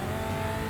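A modified BMW accelerates hard, a brief loud burst of engine roar with dense, steady tone and no talk.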